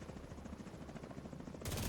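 Heavy rapid gunfire bursts in The Division 2 with a whirring helicopter rotor underneath, loud and continuous, swelling into a denser roar at the end.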